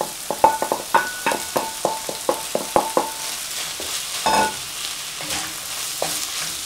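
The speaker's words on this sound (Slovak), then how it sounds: "Teraz k nemu pridáme zeleninku." Vegetables are stirred into soy meat frying in a pan. A rapid run of utensil clicks against the pan rises over a steady sizzle, then the stirring eases off into softer frying.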